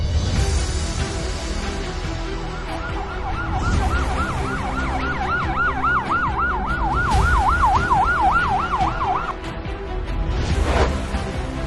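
A 108 emergency ambulance siren wails in a fast repeating up-and-down pattern, loud and close, over traffic rumble, then stops, during a heatstroke treatment drill in Chaksu, Jaipur.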